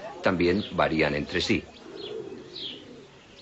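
Domestic pigeons coo softly under a narrator's Spanish commentary in a documentary about the origin of species; after the talk stops, low murmuring coos and a faint chirp go on alone in the quiet background.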